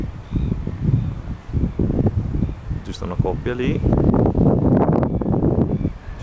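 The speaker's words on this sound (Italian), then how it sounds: "c'è solo il vento a far compagnia" Wind blowing outdoors in Australia at Christmas, gusty buffeting across the microphone under someone speaking Italian throughout.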